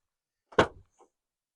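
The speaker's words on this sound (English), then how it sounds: "Finally, passenger door." Passenger door of a 2023 Renault Trafic 2.0 dCi LWB six-seat combi van opening: one short, close, solid mechanical clunk, followed a moment later by a faint light click, with quiet around it.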